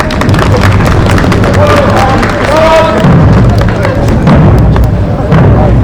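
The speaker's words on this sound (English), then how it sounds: "Big hand clap all here" Outdoor crowd clapping at a multi-period historical reenactment event at Raglan Castle, a dense, steady patter of many hands running throughout with voices talking over it.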